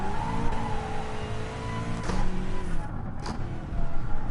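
A Gr.3 race car in GT Sport laps the Nordschleife, its engine droning steadily with rising and falling revs and a faint whine, loud and continuous, with brief shifts through gears.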